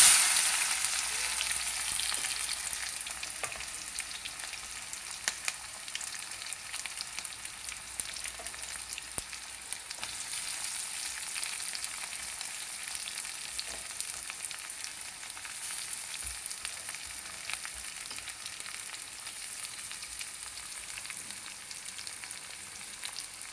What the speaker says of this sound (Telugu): ఉల్లిపాయలు మెత్తగా కొద్దిగా ఎర్రగా కాకుండా కొద్దిగా వేగాలండి.